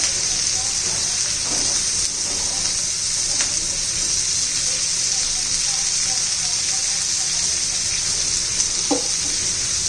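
Sliced tomatoes added to a hot pan for a quick leftover-chapati breakfast, a steady hiss of frying throughout with faint stirring knocks, close and continuous.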